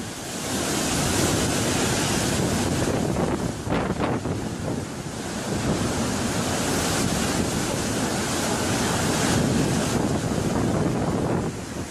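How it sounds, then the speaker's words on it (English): Huge waves pound the Stena ferry on the crossing from Holyhead to Dublin, a continuous roaring wash of surf and spray whipped by strong wind buffeting the microphone, loud and unbroken with a few heavier surges. "Huge waves hit Stina, ferry from Holyhead to Dublin."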